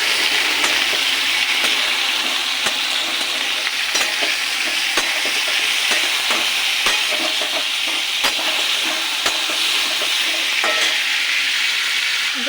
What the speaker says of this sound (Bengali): চিকেনটাকে একটু ভেজে নেব।